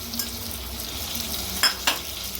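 Chicken with yogurt and salt being stir-fried in a handi: a soft, continuous low sizzle with a couple of sharp scraping clinks from the spoon against the pot near the end.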